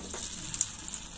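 Dry red chillies sizzle faintly in hot oil left over from frying eggs, a quiet, steady crackle with a few small pops and no talking.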